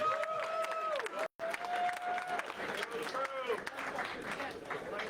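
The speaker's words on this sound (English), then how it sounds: "one last time, we have a nice round of applause for Mr. Earl Strickland and Mr. Gorst." An audience in Amsterdam applauds steadily after a professional pool match, a dense wash of clapping with a brief drop partway through and a voice talking over it.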